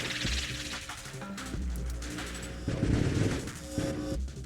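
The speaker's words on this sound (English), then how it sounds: "this applies to all of the missiles being launched in this volley" A volley of missiles launching in the space shooter game Nova Drift, a rapid, fairly loud rattle of repeated launch bursts running steadily with no talk over it.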